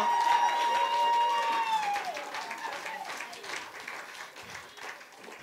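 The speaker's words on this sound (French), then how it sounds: "on va applaudir bien fort le Seigneur" A church congregation applauds loudly together, steady broadband clapping that slowly fades, with a sustained tone and a few raised voices mixed in.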